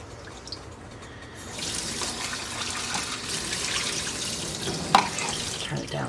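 Warm tap water runs steadily into a sink while tomato seeds are rinsed, a continuous splashing hiss that swells after the first second and holds, with a brief louder splash near the end.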